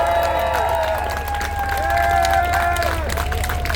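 Crowd applause and hoots at a tank event, a sustained wash of clapping and cheering with whistle-like tones rising and falling through it.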